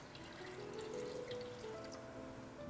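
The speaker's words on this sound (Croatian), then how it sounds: "dodat ću jednu čašu ili 200 ml mlake vode" About 200 ml of lukewarm water poured into a bowl holding dry yeast and sugar, a faint, steady trickle that runs throughout with no talking.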